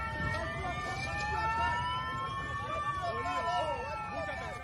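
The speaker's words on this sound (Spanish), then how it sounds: "ambulancias, ambulancia." A wailing emergency siren rises and falls steadily amid street commotion after a terrorist attack on an air base in Cali. Excited voices and crowd noise run underneath it.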